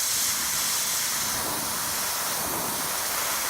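An airbrush sprays paint onto a Forge World Kx 139 model, making a loud, constant close hiss that runs unbroken from start to finish with no speech.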